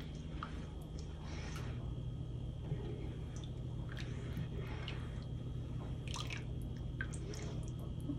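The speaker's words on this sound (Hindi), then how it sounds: "ऊपर अब पकने देंगे, चम्मच साथ साथ बराबर चलाते रहेंगे।" Milk for walnut halwa simmers in a pan while a spoon stirs it, making faint, scattered bubbling drips and soft wet ticks over a low, steady background hum.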